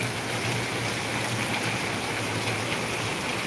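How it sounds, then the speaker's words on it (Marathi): Steady, dense rainfall in a heavy storm in Ahilyanagar hissing continuously on surfaces, loud and unbroken throughout, with a low hum beneath. "थांबायचं नाव घ्यायला नाही पाऊस"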